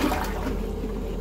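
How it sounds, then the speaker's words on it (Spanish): A toilet flushes during a bathroom toilet-bowl cleaning, a steady close rush of water that stays full and even throughout with no voices. "Vamos a bajar el agua"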